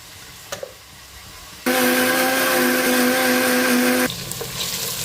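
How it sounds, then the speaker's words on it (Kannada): A mixer grinder grinds masala for mushroom biryani, a loud steady whirring drone that starts abruptly, runs for a few seconds alone with no talk, then cuts off. "ಈಗ ಮಸಾಲೆ ರುಬ್ಕೊಂಡ್ಬಿಡೋಣ."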